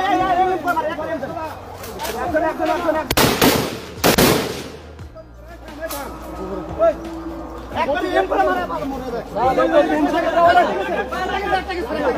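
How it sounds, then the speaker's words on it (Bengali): Army soldiers firing blank shots to disperse a crowd during street unrest in Gopalganj; several sharp loud bangs in a short burst near the middle, with excited voices and crowd chatter throughout. "ওরা হচ্ছে ব্ল্যাঙ্ক ফায়ার করতেছে"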